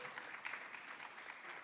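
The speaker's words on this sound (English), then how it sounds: "You can hold your applause till I'm finished." Audience applause fills a lecture hall at a skeptics' conference in Kamloops, BC, a steady wash of clapping from many hands held at an even level, somewhat distant and without speech over it.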